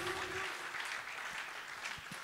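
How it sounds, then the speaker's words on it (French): Concert audience applauding loudly in a hotel salon, a steady wash of clapping that runs throughout without speech. "je vous demande encore une fois d'applaudir très fort Marius Munga."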